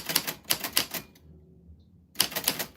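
Rapid typewriter key strikes clatter in quick bursts, pause briefly, then resume with another fast run of clacking keys.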